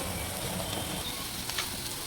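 A spoonful of ginger garlic paste sizzles steadily in a hot pan for meal maker curry, a dense, even crackling hiss with no voices.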